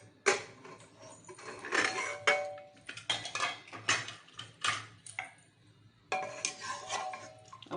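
A cooled pressure cooker of dal being opened, with close metallic clinks, scrapes and clatter of the lid and pot coming in short bursts.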